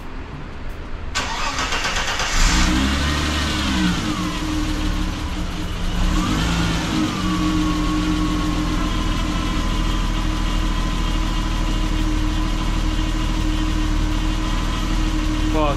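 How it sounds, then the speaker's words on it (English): A BMW E30 engine cranks and catches, then settles into a steady idle with a constant low hum and whine that runs unbroken through the rest of the clip, close by and fairly loud. "I'm gonna let the car idle for like 20 minutes basically, just make sure everything's good before I even drive it."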